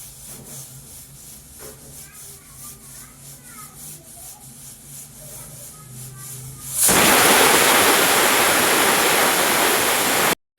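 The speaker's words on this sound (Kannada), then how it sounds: "ನೋಡಿ, ಟೋಟಲ್ 2 ವಿಷಲ್ ಬಂದಿದೆ." A pressure cooker cooking mushroom pulav sits quietly at first, then abruptly releases a loud, sustained hissing whistle of escaping steam that holds steady for several seconds until the end.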